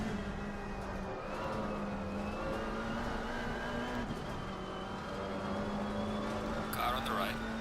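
GT3 race cars closing in during an Assetto Corsa Competizione online race, engine whine rising and holding in a steady high-revving drone with a brief gear-change dip, a second car's pitch layered in, loud and close.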